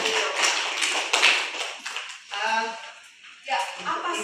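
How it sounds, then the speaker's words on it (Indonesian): A group claps for a teacher during a school session, a burst of dense applause lasting about two seconds before voices take over and talk continues. "kasih tepuk tangan buat Bu Sri dan Bu Sri"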